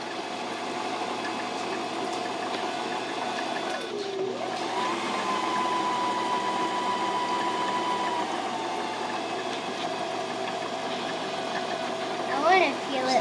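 A sewing machine winding its bobbin, a steady mechanical whir holding a constant tone for most of the stretch, with a brief dip and a pitch change near the end.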